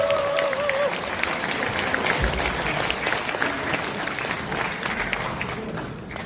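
Audience applause at a Seoul city council member's constituency report meeting, a dense, steady wash of clapping from a crowd that fills the whole stretch at fairly even loudness, with faint voices mixed in early on.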